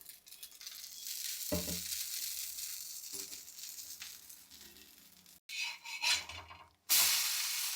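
Dosa batter sizzles and fries in a little oil on a hot pan, a steady close crackle that swells louder in bursts near the end, with no talking over it.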